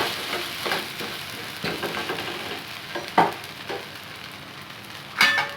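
Suji uttapam frying on a pan over a low to medium flame, a steady close sizzle with a few sharper scraping clicks and clatters rising above it.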